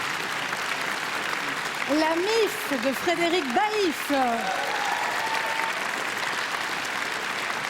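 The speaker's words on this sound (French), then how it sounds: "On peut les applaudir." An awards-show audience applauds the films nominated for best feature, a dense continuous clapping bed while a presenter speaks over it.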